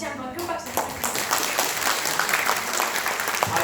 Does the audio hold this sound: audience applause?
yes